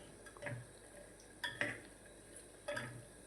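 Spoon scraping and clinking against a pot while potato-peel curry is stirred, with a few soft metallic taps spaced apart over faint kitchen background.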